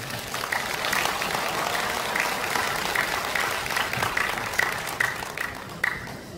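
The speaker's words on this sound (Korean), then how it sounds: "큰 박수 한번 부탁드립니다" An audience at a political speech breaks into sustained, even applause, many hands clapping together at a steady loudness from start to finish.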